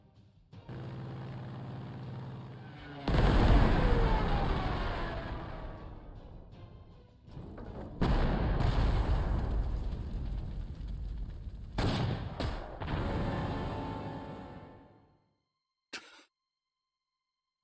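Stuka dive bomber attack in Panzer Corps 2, a rising engine roar followed by heavy rumbling blasts in several surges, loud and close, then fading to near silence.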